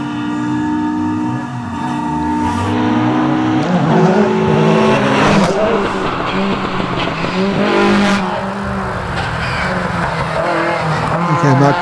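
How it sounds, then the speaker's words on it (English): A little Datsun race car powers around a tight hairpin at a hillclimb, its engine revving hard and rising through the bends with tyre noise, loud and close, while a commentator talks over it. "little Datsun coming around the tight hairpin there"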